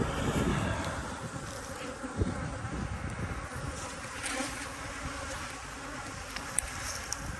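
Honey bees buzz around healthy hives that were treated with VarroxSan strips, making a steady, dense outdoor drone with individual bees flying close by now and then.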